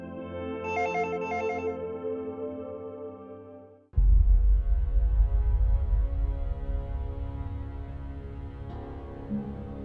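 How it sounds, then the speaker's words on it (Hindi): A mobile phone ringtone plays steadily at moderate volume indoors, a melodic repeating tone, then cuts out near the midpoint as a low rumbling background takes over; no one speaks. "इस वक्त किसका फोन आ गया?"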